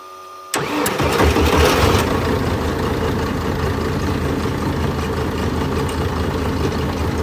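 A Bandit wood chipper engine cranks and catches abruptly, then settles into a loud, steady idle with a rough low rumble, running alone without talk.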